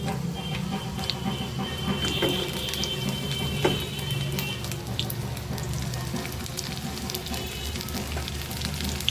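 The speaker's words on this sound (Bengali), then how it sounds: "এতে সর্ষের তেল নিয়ে নিচ্ছি। এরপর আমি পটলগুলো ভাজবো।" Pointed gourd (potol) frying in mustard oil, a steady close crackling sizzle that holds at an even level with a few sharper pops scattered through.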